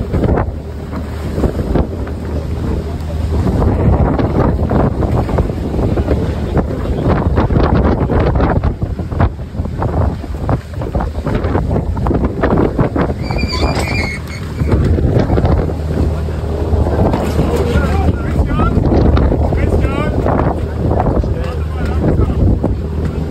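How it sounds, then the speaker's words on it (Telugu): Heavy wind buffets a sailing ship at sea during the Hanse Sail festival in Rostock, Germany, a loud, continuous roar with gusting surges and some wave wash, under a voice talking. "సో ఆ ఫ్లాగ్స్ ఓపెన్ చేసినప్పుడు అండ్ హెవీ విండ్ ఉంది"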